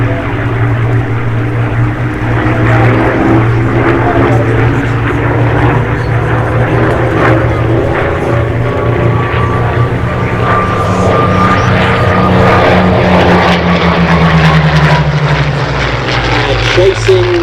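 A Hispano Buchon flown by John Romain and a Hurricane run their piston propeller engines at an airshow, a loud, steady droning rumble with slowly shifting pitch, while a commentator talks over it.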